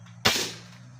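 A single sharp crack comes from an upgraded Indonesian-made copy of an FX Crown PCP air rifle, fired close by with a brief, quickly fading tail.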